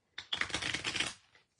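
A single quick riffle of cards being shuffled, a rapid burst of crisp flutters lasting about a second, close and fairly loud.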